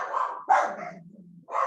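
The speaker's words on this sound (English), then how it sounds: "They don't even know what they're barking at." Dogs barking nearby in quick succession, a few loud close barks with a lower whine or growl between them, no talk.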